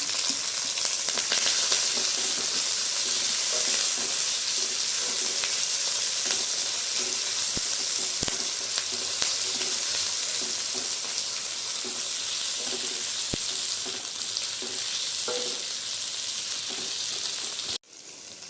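Tomato and curry leaves sizzle in hot oil with onions, the base for a butter bean and potato milk curry. Steady, dense frying hiss runs unbroken for the whole stretch, with faint stirring clicks and no voices.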